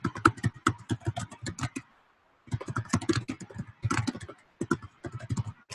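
Text being typed on a computer keyboard, rapid irregular clicking keystrokes in quick bursts with a short pause in the middle, close and moderately loud.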